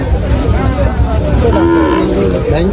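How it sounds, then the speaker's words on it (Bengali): Bull calves moo repeatedly, low drawn-out calls over a loud, busy crowd hubbub at a cattle market in Faridpur, Bangladesh. "এই সিরিয়ালে প্রচুর পরিমাণে ষাঁড় বাচ্চা আছে"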